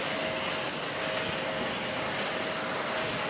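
Inside a first-class carriage of an Intercity passenger train running from Kyiv to Cherkasy, a steady, loud rumble of rolling wheels and cabin noise with a faint tonal hum continues throughout, with no talking.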